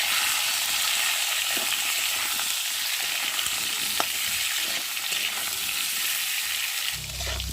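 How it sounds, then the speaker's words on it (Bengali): Potatoes and cumin sizzle steadily in a pan while being stirred, with a continuous close frying hiss, occasional scraping clicks of the utensil, and a brief low bump near the end; no one speaks. "একটু ভালো করে নেড়ে দেবো"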